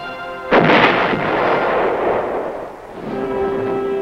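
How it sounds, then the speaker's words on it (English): A single booming round from an 8-inch howitzer fires with a sharp blast, then rolls into a long rumbling decay that fades over a few seconds. "giant 8-inch howitzers reinforced the air-mobile batteries"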